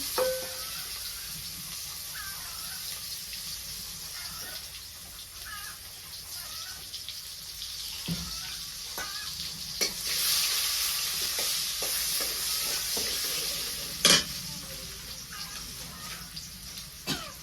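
Chopped onion frying in a pan, a steady soft sizzle with occasional stirring clatter and a short cough, continuing throughout at moderate level.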